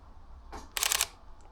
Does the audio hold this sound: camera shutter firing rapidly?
yes